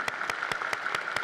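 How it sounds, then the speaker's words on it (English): Sparse, evenly spaced claps at a high school graduation ceremony, about six sharp hits in just over a second, heard at moderate distance, like a few people clapping slowly. "Please give them a round of applause as well."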